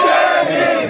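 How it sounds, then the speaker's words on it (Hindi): A crowd chants slogans together at a rally marking Dr. B. R. Ambedkar, on a march from his birthplace in Mhow to Jantar Mantar in Delhi. The chant is dense, loud and close, filling the whole second with no single voice standing out. "जोरदार तालियां इनके लिए, नारे लगाओ, नारे।"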